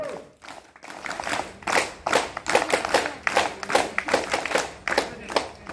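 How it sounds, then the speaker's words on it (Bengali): A group of schoolchildren at a primary school Independence Day celebration clap together in sharp, evenly spaced claps that repeat in a steady rhythm, with voices mixed in. "3 তালি শুরু করো।"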